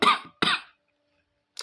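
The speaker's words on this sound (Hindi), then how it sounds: "खांसी हो गया ज़्यादा कुछ" Two sharp coughs in quick succession, close and loud, followed by silence and a brief faint breath.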